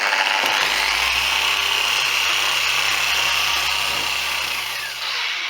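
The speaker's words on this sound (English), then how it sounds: "we're just letting the polisher do the work, not putting any pressure on there" A power polisher with red mid-stage polish buffs a painted metal flake Stratocaster guitar body, giving a steady, loud, close whirring drone with a low hum underneath that holds throughout with no talking.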